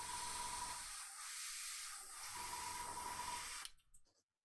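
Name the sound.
spraying paint onto board game miniatures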